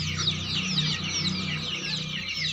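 Desi chickens cluck continuously at close range, a dense overlapping chorus of many birds with steady low murmuring calls and no pauses.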